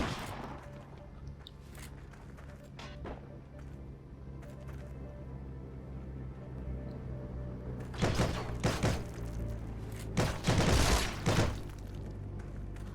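Gunshots from a weapon in the video game Heroes & Generals, with a couple of loud broadband bursts near the end standing out over steady low game ambience.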